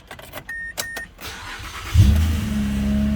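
A 2011 Mazda CX-9 engine cranks and starts after a brake booster installation. A few soft clicks and chimes come first, then the engine catches loudly and settles into a steady, close idle.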